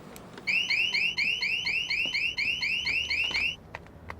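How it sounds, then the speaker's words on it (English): A loud car alarm sounds nearby in a rapid, steady electronic warble that repeats evenly for about three seconds before cutting off, followed by faint clicks and no voices. "That's what I love about car alarms."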